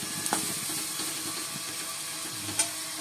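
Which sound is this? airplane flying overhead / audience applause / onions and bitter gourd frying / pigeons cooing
onions and bitter gourd frying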